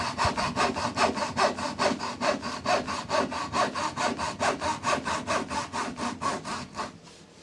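A restored second-hand hand saw cuts through wood in a steady series of about twenty rhythmic rasping strokes, close and clear, slowing and fading at the end, with no talking.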